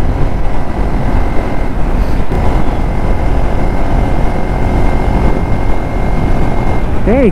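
A motorbike rides along the Hebbal flyover, giving a steady, loud rumble of engine and rushing wind that holds constant throughout, with a brief rising tonal whine near the end.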